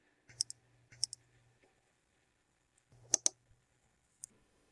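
Sharp mouse clicks in a phone or computer app, a few isolated taps in pairs and singles with quiet gaps between, close and crisp, no voices.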